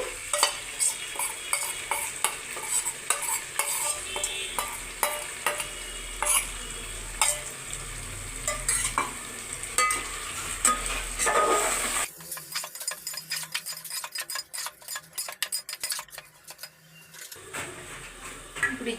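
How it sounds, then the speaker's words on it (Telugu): Marinated chicken frying in a pan of smashed tomato masala, stirred with repeated scraping strokes over a steady sizzle, close up; partway through the sizzle drops away and sharp clinking scrapes continue. "ఇప్పుడు అందులోకి ముందుగా మ్యాగ్నేట్ చేసి పెట్టుకుని చికెన్ అనేది వేసుకోవాలి"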